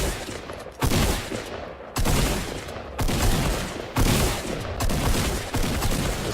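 Several bursts of gunfire in the video game Fortnite, each sharp onset followed by a roughly one-second crackling decay, repeating at fairly regular intervals; moderately loud with no talking.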